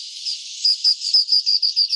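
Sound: call of the endemic Seychelles scops owl

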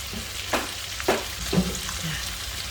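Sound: gambas al ajillo (garlic shrimp) still bubbling in oil, heat off

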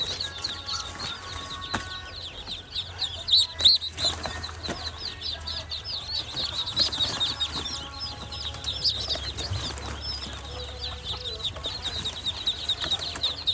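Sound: ducklings flapping wings while being caught

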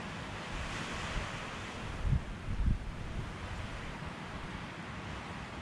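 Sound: wind blowing on a mountain trail

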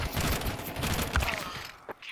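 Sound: burst-fire gunshots in Counter-Strike 2 video game

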